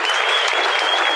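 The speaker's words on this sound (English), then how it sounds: "Let's give them a round of applause." An audience at a school's State of the School event gives a brief burst of applause. The clapping is dense and even, with no voices heard.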